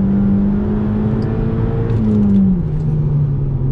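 An Audi TT's 2-litre engine holds high revs, a loud sustained tone that sags slightly as the pitch drops, heard from inside the car with no talk.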